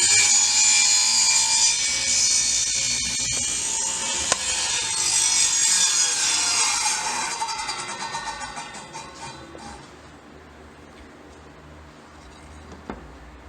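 A table saw rips through a board on a tapering jig sled, a loud bright whining cut for several seconds that gradually fades as the blade spins down, with a couple of sharp clicks near the end.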